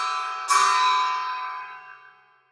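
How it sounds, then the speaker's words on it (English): A Paragon bell is struck once, giving a dark, heavy, chimey ring with a sharp attack and a long shimmering tail that fades slowly into silence. "this one, the Paragon, to me, sounds more like a chimey bell, and it sounds darker, heavier."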